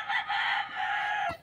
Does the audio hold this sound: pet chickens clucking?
yes